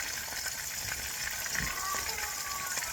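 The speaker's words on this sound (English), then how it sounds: "I'm frying the chicken." Steady sizzling and crackling of chicken frying in a hot pan, continuous and close, with faint bits of background noise.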